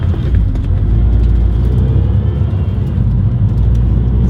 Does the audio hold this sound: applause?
no